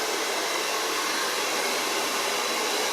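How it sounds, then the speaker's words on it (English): Ibiza hair dryer blowing on its low setting while drying hair, a steady, even airy whoosh and motor hum that stays constant and fairly soft throughout, with no talk. "we're going to dry my hair as normal"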